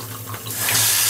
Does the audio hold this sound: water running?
yes